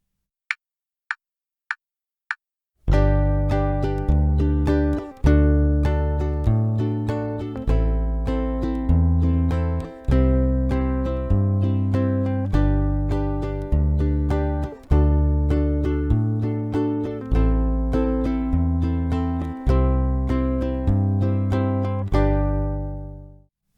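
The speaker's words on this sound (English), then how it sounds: "let's play this bass line with the ukulele playing the chords" A bass ukulele plays a steady, repeating bass line while a ukulele strums chords over it, both close and loud for about twenty seconds, introduced by four quick count-in clicks and ending on a ringing chord.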